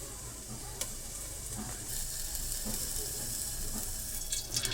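Oil sizzles in a pan at the start of making a Palakkad-style nadan curry, a soft steady frying hiss with a few faint stirring clicks, quiet and close.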